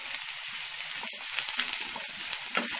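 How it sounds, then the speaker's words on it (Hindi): Finely chopped onions frying in hot refined oil for a Sindhi-style besan gatte curry, a close, even hiss of sizzling with small pops and soft crackles throughout. "प्याज भुन रहा है हमारा।"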